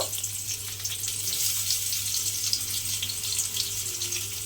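Finely chopped onion fries in hot oil with a continuous, close bright sizzle that holds steady at moderate loudness, with no talk over it.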